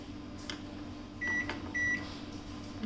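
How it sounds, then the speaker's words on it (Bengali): A microwave oven runs with a steady low hum, broken by two short electronic beeps near the middle and a couple of soft knocks; no one speaks, and it is being used to cook a dish of hilsa fish. "এটাকে মাইক্রোওয়েভে দিতে হবে 7 মিনিট"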